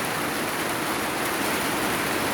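Steady heavy rain falling outdoors around a rural house, a dense continuous hiss that fills everything evenly, loud and close with no voices.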